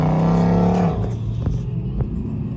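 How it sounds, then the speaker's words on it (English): An Audi R8 sports car at a Mustang Week beach cruise event revs loudly up close, then its engine note drops away as it drives past, leaving a lower rumble with a few sharp pops. "Oh, it's an Audi R8."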